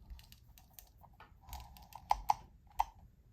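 Comandante C40 MK4 hand coffee grinder being rotated counterclockwise through its adjustment settings, giving a series of small, sharp, close-up clicks, a few standing out crisply over quieter ticking.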